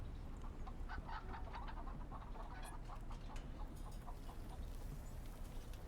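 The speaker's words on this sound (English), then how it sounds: "We have some chickens loose out there." Chickens clucking in a Call of Duty 4: Modern Warfare map, a steady scatter of short clucks and calls over a constant low ambient rumble of the game environment.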